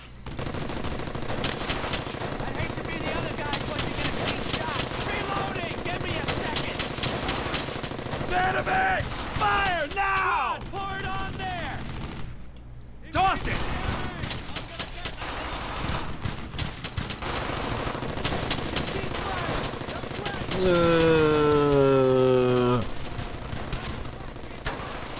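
Continuous gunfire from the World War II shooter Brothers In Arms: Hell's Highway rattles on steadily, with machine-gun bursts layered over game audio and a voice talking at times.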